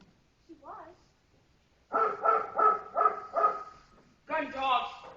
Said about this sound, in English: Gun dogs.